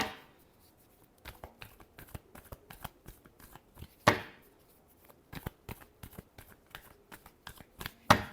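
Tarot cards shuffled by hand at close range, crisp papery riffles and soft flicks coming in quick irregular bursts, with one louder sharp snap partway through and another at the end.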